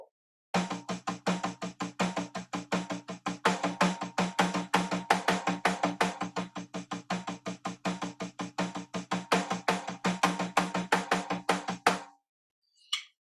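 A bar of evenly spaced sixteenth-note drum strokes with accented hits, played as a steady rapid stream of crisp attacks for about eleven seconds, then stopping.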